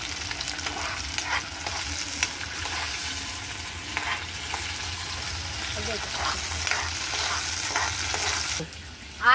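Tomatoes are stirred in a cooking pan over a steady, close sizzle, with occasional scrapes and clatters and a person talking over it.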